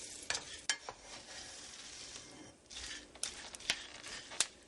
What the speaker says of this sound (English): You hear that popping, that cracking sound? A little bit like popcorn.